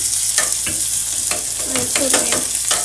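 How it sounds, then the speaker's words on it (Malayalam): Shallots and garlic fry in a pan, giving a steady low sizzle broken by scattered scraping stir strokes and clicks of a utensil, close up, with no voices. "വെളുത്തുള്ളി ഒന്ന് നല്ലോണം കണ്ട് മുരിയട്ടെ ഈ ബ്രൗൺ കളറൊക്കെ വരട്ടെ"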